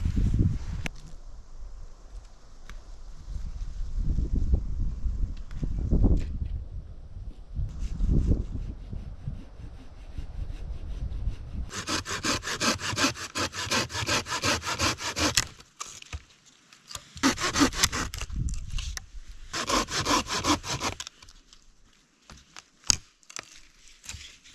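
Firewood is hand-sawn at a rainy, cold canoe campsite, with slow grinding strokes at first and then fast, rhythmic back-and-forth rasping bursts, close and fairly loud, alone with no talk.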